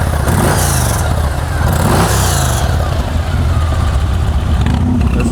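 A used Yamaha Stratoliner S motorcycle engine runs loud and close, with a steady throaty rumble and a couple of swelling revs over about five seconds.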